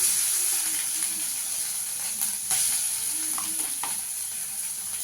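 Grated coconut fries in a pan over a low flame with asafoetida, giving a steady close sizzle and hiss broken by a few scraping stirs of a spoon.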